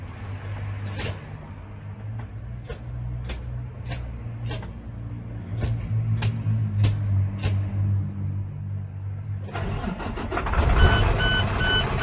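A 2011 International Durastar 4300 truck is started: a low engine rumble runs steadily, a series of sharp clicks sound through the middle, then the engine catches and grows louder and rougher near the end.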